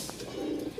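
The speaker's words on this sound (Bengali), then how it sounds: "এই দেখেন কবুতরের ডাক দেখেন।" A red European Lahori pigeon coos softly in a brief, close low murmur, with faint background noise and no talk.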